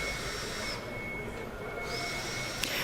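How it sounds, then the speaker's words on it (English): A vacuum cleaner runs steadily in the background of a broadcast interview, a constant loud whooshing drone with a faint whine, no speech over it. "there are odd noises and bings and bongs and bangs and a vacuum going"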